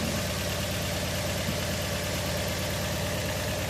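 A Toyota Vios engine idles unevenly at low RPM with a misfire, giving a steady, close mechanical drone with a faint irregular knock running through it.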